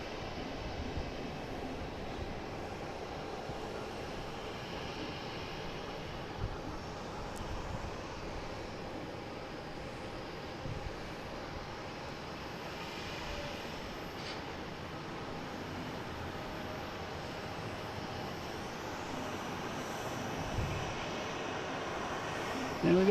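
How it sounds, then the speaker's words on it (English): A Delta airliner takes off from Boston Logan toward Detroit, a steady, moderately distant engine rumble that holds evenly for over twenty seconds, with occasional faint voices in the background. "And we get Delta taking off, heading to Detroit"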